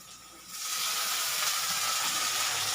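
Tomatoes dropped into a hot pan for veg chow mein: after a quieter moment a loud, steady hiss and sizzle rises and holds to the end.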